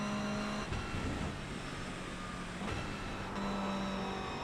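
Race car engine from the iRacing simulator, a steady sustained drone with tonal harmonics shifting as the car is pushed through a corner, gear changes near the start and middle, no talking.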